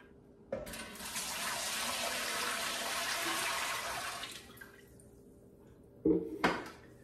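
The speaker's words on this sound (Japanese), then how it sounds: "続いてお水を3クォート約3リットル入れます。" About three litres of water gushes steadily into a metal pressure cooker for about four seconds, then stops, followed by a couple of clanks as the container is set down.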